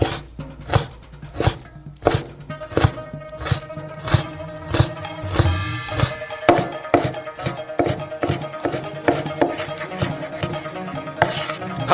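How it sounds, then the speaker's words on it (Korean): Pork is cut with a knife on a board, a series of irregular close chops and taps, some quick and some spaced apart, with a bit of light handling noise between strokes. "돼지고기도 똑같이 잘라주세요"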